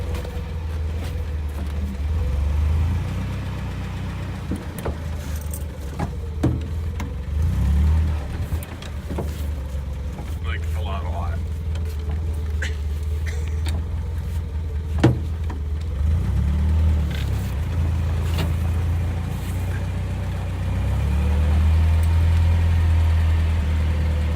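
An International Harvester Scout 80 drives slowly with the throttle pulled out slightly, its engine running steadily with a low, continuous rumble and occasional knocks and rattles.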